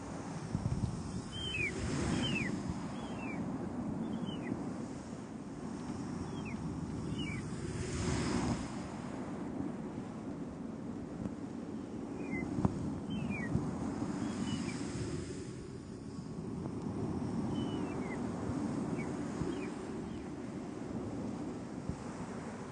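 Soft whooshing, surf-like noise with repeated high chirping squawks resembling seagulls, steady and close, produced as an ASMR imitation of ocean waves and gulls, with no talking.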